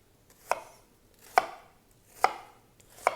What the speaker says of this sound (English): chop our onion into even pieces